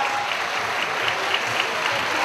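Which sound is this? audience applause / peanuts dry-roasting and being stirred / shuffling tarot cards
audience applause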